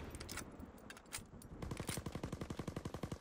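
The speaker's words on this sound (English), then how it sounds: "Not a very fast shooting gun either." A submachine gun or light machine gun fires at a firing range in a WWII video game: a few scattered shots and clatter, then a steady, evenly spaced automatic burst of moderate rate, close and clear.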